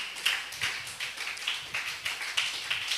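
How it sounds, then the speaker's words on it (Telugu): A church congregation claps hands in praise, a steady series of sharp claps from many people, moderately faint in a reverberant hall. "ప్రభుని ఒకసారి చప్పట్లు కొట్టి ప్రభుని మహింపరచండి"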